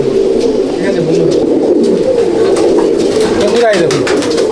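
Andhra and Madrasi pigeons coo steadily in a crowded loft, a dense, continuous murmur of throaty calls close by, with a voice speaking over them.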